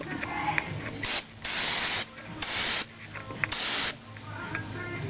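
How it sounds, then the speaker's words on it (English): Aerosol cleaner sprayed under a Lexus IS300 in short hissing bursts, four or five spurts of about half a second to a second each, separated by quieter pauses, close and fairly loud. "let's shoot a little brake cleaner down here"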